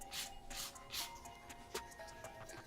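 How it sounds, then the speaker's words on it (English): A 150 grit nail file smooths the sides of a nail on a practice hand, giving soft, repeated rasping strokes in short bursts, faint and close up with no talking. "I'm just going to take my 150 grit file. I'm going to smooth out my sides."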